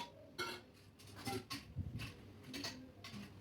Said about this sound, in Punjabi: ਇੱਧਰ ਜੇ ਆਪਾਂ ਭਾਂਡੇ ਜਿਹੜੇ ਧੋਤੇ ਸੀਗੇ ਸਾਰੇ ਟੋਕਰੀ 'ਚੋਂ ਕੱਢਾਂਗੇ